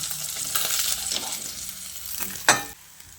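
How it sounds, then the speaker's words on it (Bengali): Fried fish are lifted out of hot oil in a pan with a soft, continuous sizzle, scattered scraping and clinking, and one sharp metallic knock near the end before the noise drops away. "বাকি মাছগুলোকেও আমি ভেজে নিয়েছি। আর এবারে মাছগুলোকেও তুলে নিচ্ছি।"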